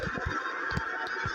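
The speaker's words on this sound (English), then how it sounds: "I fed your bird a wrench." Honking, goose-like squawks from a bird in the horror video game Granny, sounding in a rapid series of short, loud calls over a steady game background hum, with no talking.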